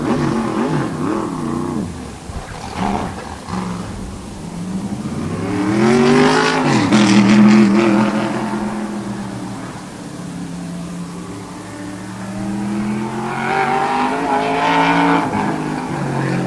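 Tour-type modified race car spinning out during qualifying at Wall Stadium, with a loud engine rising and falling in pitch and tire squeal, followed by continued engine revving and other cars passing.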